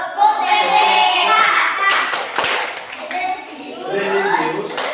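A group of standing children performs the PPK clapping chant, with sharp, scattered hand claps breaking through loud, continuous chanting voices at close range.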